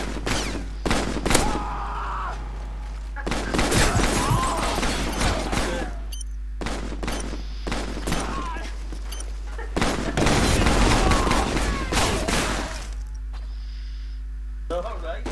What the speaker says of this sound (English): I heard somebody shooting a bit.